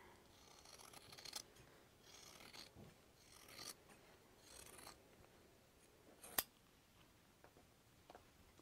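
Scissors snip through fabric and a window-treatment template, making faint, close, irregular crisp cuts and rustles with one sharper click midway, quiet and without talk.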